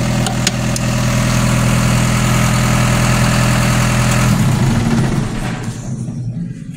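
A diesel engine with a leaking hose idles with a steady, loud, low rumble, then is shut off and winds down into a fading, rattling quiet near the end.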